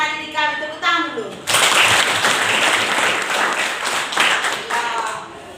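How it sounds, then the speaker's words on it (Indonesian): Classroom students break into applause after a short spell of a teacher's voice, and the clapping stays dense and lively for several seconds, close and fairly loud. "Tepuk tangan dulu."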